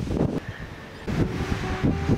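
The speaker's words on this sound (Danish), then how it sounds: "det blæser en lille smule" Light wind gusting across an open golf course tee near Esbjerg, a soft rumbling buffet on the microphone that swells and eases in a few low bursts, with no talk.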